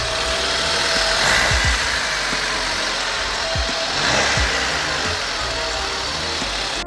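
Engine of a 1999 Honda Civic LX running at a steady idle, a continuous mid-pitched hum with a few low thumps, heard close and alone with no talk.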